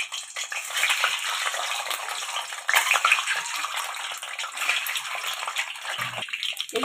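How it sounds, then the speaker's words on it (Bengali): Lightly salted eggs sizzle gently in hot oil in a pan while being fried for an egg korma, a steady soft crackle that runs throughout without speech. "শুধু অল্প করে নুন দিয়ে ডিমটা ভেজে নিচ্ছি"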